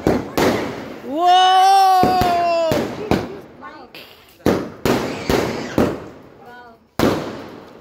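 Firecrackers and fireworks at a child's birthday celebration go off in a run of sharp bangs and whistling bursts, some near and loud, with voices of people in between.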